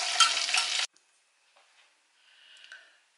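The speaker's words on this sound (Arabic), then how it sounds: "الزيت والمعون يكون غارق شوية باش نقليو فيه" Tunisian fricassé dough hisses in deep oil for under a second, a dense close sizzle that cuts off abruptly, leaving near silence with a few faint ticks.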